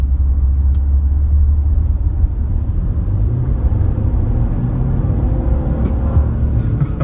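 A Toyota Tundra Platinum pickup with the i-Force V6 accelerates at full throttle, its engine a loud, deep, sustained rumble heard from inside the cab with rising road noise.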